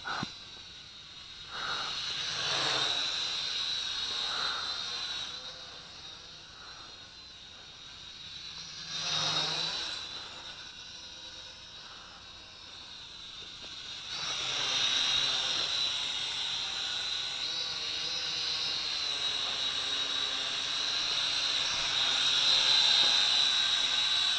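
A HJ818 Pathfinder quadcopter drone flies on an improved battery with a steady high-pitched whine. The whine shifts in pitch as the drone maneuvers, rising and swelling as it passes nearer, with no talk.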